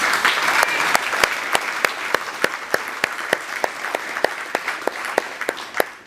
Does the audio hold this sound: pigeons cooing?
no